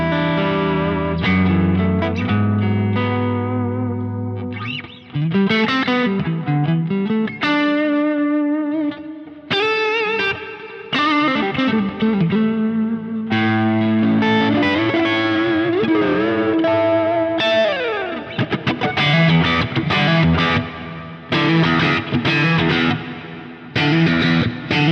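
Distorted electric guitar run through the Asato preset on a Quad Cortex, playing riffs and chords with chorus and reverb, loud and sustained with short pauses, no voices.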